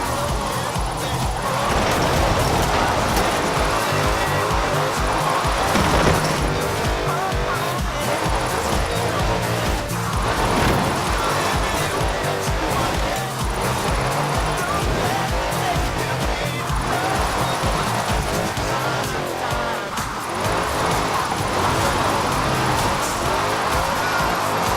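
A car drifting in Forza Horizon 4, engine roaring continuously with long tyre squeals and skids, loud and close throughout with game music or noise underneath.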